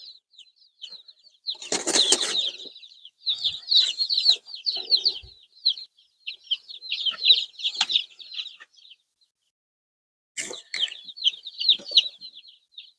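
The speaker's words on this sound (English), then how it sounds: "So inside of here, we have a lot of little chickies." A box of baby chicks peeps in rapid, high, overlapping bursts, close and fairly loud, with brief pauses between clusters and a rustle of movement.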